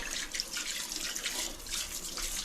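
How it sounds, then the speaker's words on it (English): Tap water from a shower tap runs steadily over sticky home-brew beer bottles being rinsed, a continuous close hiss of spray and splashing with no voices. "I'm just going to literally give them all a shower with the shower tap to rinse any sticky off from the outside"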